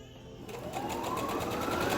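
A sewing machine starts up after a quiet moment, stitching a tutu ribbon strip with a fast, even mechanical whir and a rising motor tone, close and clear without talk.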